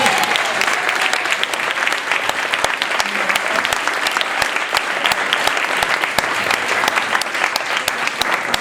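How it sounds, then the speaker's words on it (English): An audience breaks into sustained, dense applause, many hands clapping steadily and loudly throughout with no letup, filling the room. "give them another round of applause"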